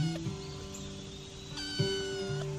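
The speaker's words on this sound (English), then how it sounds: "Hey, Kitten George." A cat meows in a sustained, tonal call, with a second meow rising later; nearby and moderately loud over a faint background, with no talking.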